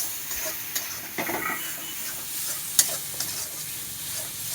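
Egg curry being sautéed with gondhoraj lemon leaves in a pan, giving a steady soft sizzle with occasional scraping stirs and a brief sharp clink, close and moderately quiet with no talk.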